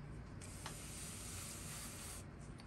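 Steady, soft airbrush hiss of a fine low-pressure paint spray on a fishing lure, continuous throughout with a faint break near the end.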